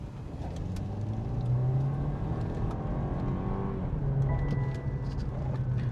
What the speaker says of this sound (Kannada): ಇದು ಗಾಡಿ ಸಹ ಸೇಮ್ BMW 330 Li.